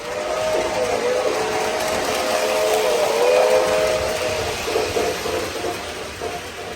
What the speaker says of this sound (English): I got an awesome locomotive on my layout right now.